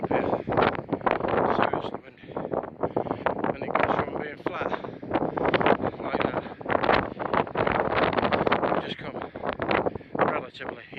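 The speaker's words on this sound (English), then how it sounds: "It's very windy up here, seriously windy." Strong wind buffeting the microphone on an exposed hilltop in the Peak District dale of Cressbrook Dale, a loud continuous roaring rumble with gusty surges throughout, and a person talking over it.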